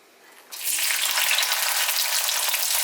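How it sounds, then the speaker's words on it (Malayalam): Tomato and green chili hit hot oil with a sudden loud hiss that swells into a strong, steady sizzle up close, sustained to the end. "എണ്ണ ചൂടായിട്ട് ഇപ്പം നമുക്ക് ഓരോന്നായിട്ട് ഇട്ട് കൊടുക്കാം."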